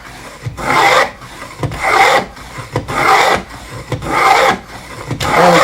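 A hand plane cutting a groove along a length of wood between marked mortise-gauge lines, heard as repeated rhythmic rasping strokes, about five close, loud passes with brief pauses between, no talking.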